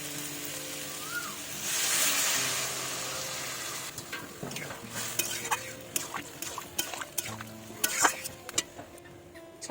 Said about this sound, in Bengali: কাঁঠাল ভালো করে কষানো হয়ে গেছে এখন জল দিয়ে দেবো